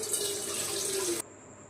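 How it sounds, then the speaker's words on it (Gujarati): Cold water pours over freshly boiled pasta in a steady, close rushing stream for about a second before cutting off abruptly, leaving a quiet tail with no talking. "ઠંડુ પાણી નાખી દઈશું અને થોડીક વાર આને ઠરવા દઈશું"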